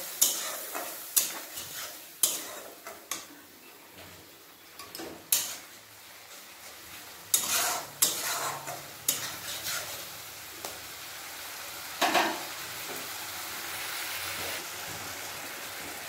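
A wet paste of ground cumin, coriander, chili and turmeric fries in a pan with a continuous hiss, punctuated by repeated scraping stirs and knocks of the spoon, some loud and close; nobody speaks.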